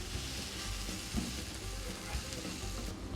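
Chopped vegetables with tomatoes sizzle and fry steadily in a pan, a continuous close crackling hiss with no talk.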